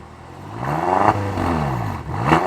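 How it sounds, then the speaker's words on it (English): A BMW M6 F06 Gran Coupe engine revving, with rising and falling exhaust note sweeps, loud and close, and no talking. "let's go ahead and start the car, go for a drive. I'll show you guys how the exhaust sounds."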